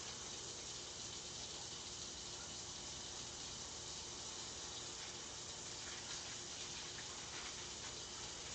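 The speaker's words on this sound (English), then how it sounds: "Let's give it a little rinse here." Tap water runs steadily into a kitchen sink during a rinse, a continuous broadband gush at moderate level with no talking over it.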